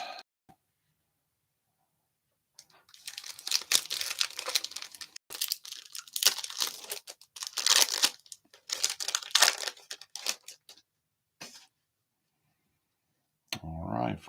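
2021 Topps Stadium Club card packs being ripped open, crinkling foil wrappers and tearing in close irregular bursts, separated by quiet stretches, with a brief voice at the end.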